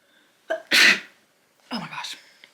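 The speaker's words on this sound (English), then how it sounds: "I gotta sneeze" A woman sneezes indoors in an art studio: a quick sharp intake followed by a loud, forceful burst, then a quieter exclaimed sound afterward, alone with no background noise.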